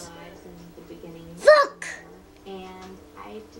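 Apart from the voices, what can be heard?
pet sneezing with an odd hiccup-like sound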